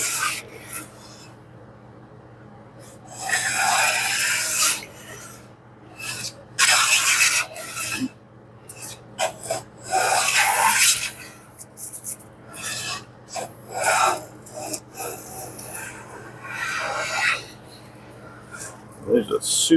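A No. 7 jointer hand plane takes thin shavings from wood clamped in a vise, giving repeated rasping strokes with brief pauses between passes, close and clear, with someone talking between strokes.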